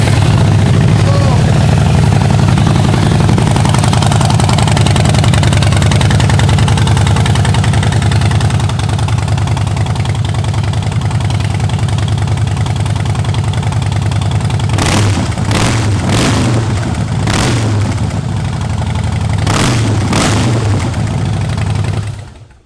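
Harley-Davidson Softail Deluxe motorcycle with 46,000 miles, its engine running loud and close at a steady, deep idle, with a few short throttle blips near the end.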